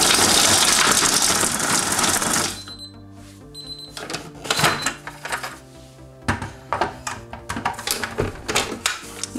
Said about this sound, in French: le chocolat, et on mixe en vitesse 9